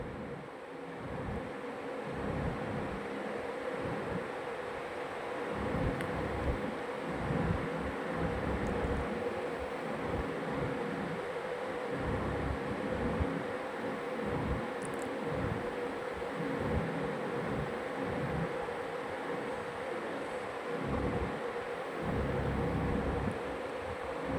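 A sewing machine stitches the seams of a Chanderi silk suit with a fast, even mechanical whir, pulsing in regular bursts as it runs close by for the whole stretch, with no talk over it.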